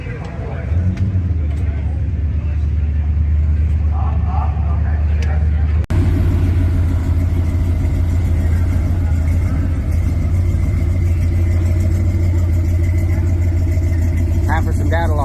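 An early Ford Bronco swapped with a 7.3 Godzilla V8 runs at a Holley Ford Festival, a loud, close, steady low engine rumble that shifts to a deeper, heavier note partway through, with a crowd murmuring faintly underneath.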